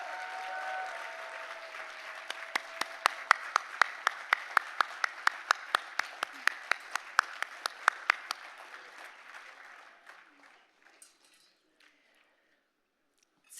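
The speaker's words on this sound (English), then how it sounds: "Could we do a big round of applause for the great Mort Klein?" Audience at a ZOA gala applauding, starting as steady clapping from the crowd and thinning to scattered claps before fading into quiet.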